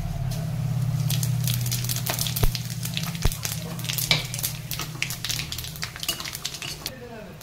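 Cumin seeds dropped into hot oil with cinnamon, cardamom and cloves, giving a loud, continuous crackling sizzle with sharp pops all through and a few clinks of a utensil against the pan.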